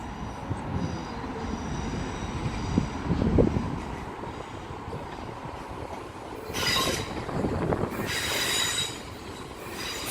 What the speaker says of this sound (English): Now departing is the 9:49 South Western Railway service to Portsmouth and Southsea.